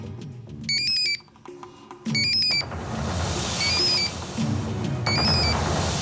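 A phone in a Hindi crime drama rings in short electronic bursts, two clear trills then further chirps over a busy background of music and noise, moderately loud.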